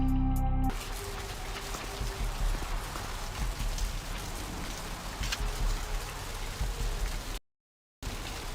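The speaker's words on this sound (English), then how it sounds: "Rain is the pungent sewage of hell, seeping into the cracks of this putrid purgatory." Steady rain falling in the video game Vampire The Masquerade Bloodlines, a dense continuous patter that runs throughout, broken by a brief tone at the start and a short gap of silence near the end.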